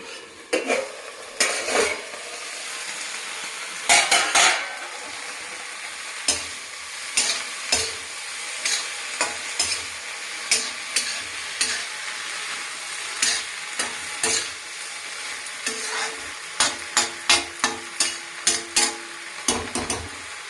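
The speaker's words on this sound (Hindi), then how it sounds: "भिंडी हम पका रहे हैं" Okra (bhindi) frying in a pan, a soft steady sizzle under frequent sharp clinks and scrapes of a spoon stirring against the metal.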